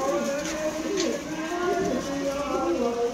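Malwai pigeons coo in repeated soft, throaty rolls, close and fairly quiet, with overlapping calls running through the whole stretch.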